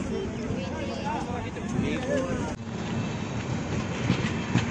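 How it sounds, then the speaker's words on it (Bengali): The Mahananda Express pulls out of a station platform. Its wheels rumble and clack steadily at close range, with a short break partway through, and the murmur of voices sits under the train noise. "এই যে ট্রেন ছেড়ে দিয়েছে"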